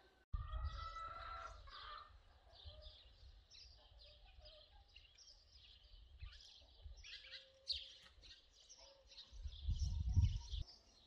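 Many small birds chirp and tweet continuously at a moderate distance in a home garden, with a low rumble of wind or handling noise underneath.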